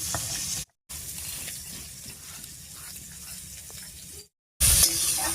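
Sliced bitter gourd fries in oil in a pan, giving a soft, steady hiss at close range between short breaks of silence, with a louder burst of sizzle at the end.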